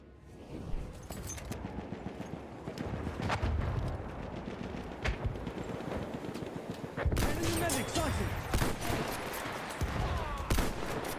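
MLE 1903 pistol fired in Battlefield 1 amid a busy battle, sharp single shots mixed with distant gunfire and bursts, loud and close, with a voice talking over parts of it.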